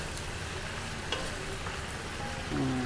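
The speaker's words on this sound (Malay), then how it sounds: "Kita goreng di dalam periuk yang kita nak masak nasinya sekali" Chicken fries in a rice pot for saffron chicken and pilaf, giving a steady low sizzle and crackle with faint stirring, fairly quiet and with no talk over it.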